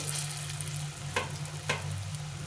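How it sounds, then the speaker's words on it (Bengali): Ridge gourd and lentil fritters (bora) fry in oil with a steady broadband sizzle, broken by two brief louder bursts as more batter goes in; a low steady hum runs underneath and no one speaks. "আমি বড়াগুলো একবারে ভেজে নেব"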